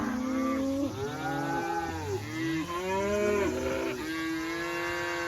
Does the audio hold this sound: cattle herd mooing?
yes